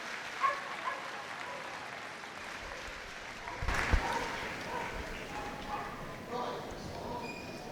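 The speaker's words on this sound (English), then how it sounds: "please give Dalton and Munchie a big round of applause for an absolutely fantastic run" Spectator applause at the Crufts 2022 agility championship after a dog's run, a spread-out crowd clapping under a faint announcer's voice, swelling briefly partway through.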